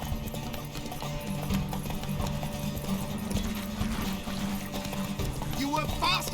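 Roach the horse gallops in The Witcher 3 video game, a steady, rapid clip-clop of hooves running beneath continuous speech and background music throughout.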